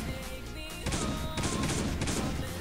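Rapid, dense gunfire in the survival game Last Day on Earth, a continuous rattling stream of shots that grows heavier and louder partway through, filling the foreground without talk.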